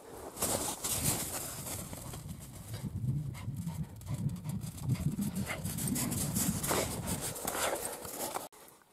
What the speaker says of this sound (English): Hey, you're a goofy dog.